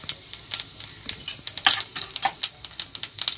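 Black cumin seeds crackle and sizzle in hot mustard oil in a pan, a close, lively string of sharp pops and spits with no talking.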